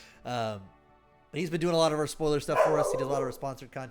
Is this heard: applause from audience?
no